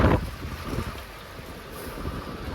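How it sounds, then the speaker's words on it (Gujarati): Strong storm wind gusts just outside a road tunnel on a mountain route from Kashmir to Jammu, roaring and buffeting the microphone in a loud, steady rush with a heavy blast at the start, with no talking. "ફૂલ પવન ને વાવાઝોડું છે"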